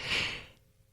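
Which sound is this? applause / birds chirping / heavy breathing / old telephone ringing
heavy breathing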